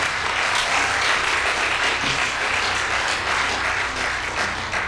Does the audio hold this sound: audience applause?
yes